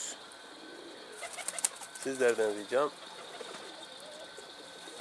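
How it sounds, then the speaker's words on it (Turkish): Pigeons released by a keeper on a summer day give soft, low cooing mid-clip amid outdoor ambience, with someone speaking nearby. "Şükrü kuşlar kuşlarını uçuruyor."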